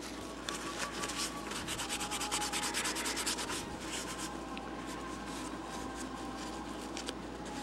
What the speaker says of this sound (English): The thing you don't want to do is sand this wet.